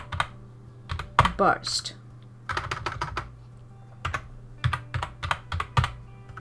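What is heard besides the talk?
typing on a computer keyboard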